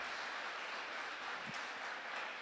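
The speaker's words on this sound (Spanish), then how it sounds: "Vamos a darles un aplauso." A church congregation applauds at the close of a prayer, producing a steady, moderately faint wash of clapping with no break.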